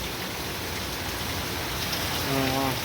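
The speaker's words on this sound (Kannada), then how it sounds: "ಇಲ್ಲಿ ಅಂದರೆ ಹೆವಿ ಜೋರಾಗಿ ಮಳೆ ಬರ್ತಿದೆ ನೋಡಿ" Heavy rain pours down steadily as a dense, loud, continuous hiss, with a brief voice-like sound near the end.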